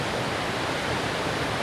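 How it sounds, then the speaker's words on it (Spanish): Amazon river rushing through a narrow rock canyon, a loud, constant roar of churning water filling the whole clip, close and unbroken, with no voices. "Ahí el río cae en un angosto, miren cómo se forma un cañón entre las rocas."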